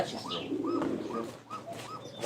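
Pigeons coo in a backyard aviary in a rhythmic series of soft, rolling calls, close by and fairly clear, with faint background noise.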